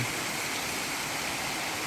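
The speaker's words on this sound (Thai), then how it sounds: "ไหลลงสู่ลำธารข้างๆถ้ำเย็น" Water overflowing from a cave at a temple in Chiang Dao, Chiang Mai, rushes into a stream beside it, making a steady, loud, unbroken roar.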